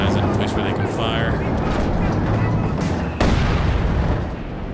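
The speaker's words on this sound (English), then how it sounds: "Let's go ahead and drop some mortar rounds over there." Mortar rounds fire and land in the World War II strategy game Company of Heroes 2, heard as dense rumbling booms and blasts over battle noise with a sharp burst near the end and a voice talking over it.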